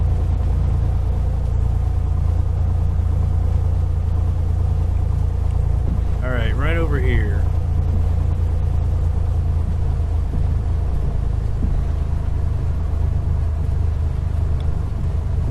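A Cessna 182's piston engine rumbles steadily while taxiing in the FSX flight simulator, a constant drone under brief talk from the player partway through.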